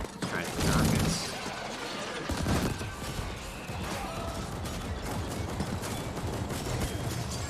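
Rockets firing in a video game as a heavy weapon, a dense, loud blast and crash up front followed by a sustained rumbling din of combat noise.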